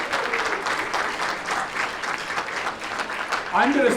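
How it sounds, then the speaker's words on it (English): Dinner auction crowd at a Cathedral School fundraiser giving a round of applause, sustained clapping across the room with scattered voices mixed in and a louder burst near the end. "have everybody give a round of applause"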